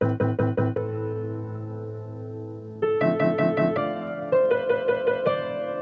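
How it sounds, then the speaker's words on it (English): A musical phrase chopped into rapid, evenly timed sixteenth-note repeats, the audio stuttering in tight rhythmic bursts before playing on, then stuttering again. "Loop will take the audio at the beginning of the note and repeat it for as long as the effect is held."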